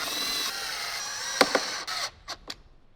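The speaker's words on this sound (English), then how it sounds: "So we're going to grab our 8 Phillips head screws, go ahead and get those in." Phillips head screws being driven into a Jeep JL speaker mount with a power driver, a short whirring run followed by a few brief clicks and bursts, close by and then tapering off.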